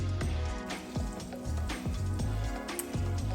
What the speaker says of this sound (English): You want to swirl this while it's cooking, just to make sure that the butter cooks evenly.